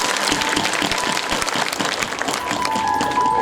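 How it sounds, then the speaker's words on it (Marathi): An audience at a Shiv Mahapuran religious discourse in Pawnar claps loudly and steadily, a dense sustained wall of applause from a crowd, with a faint tone rising toward the end. "बरं, एकदा जोरदार टाळ्या वाजवा."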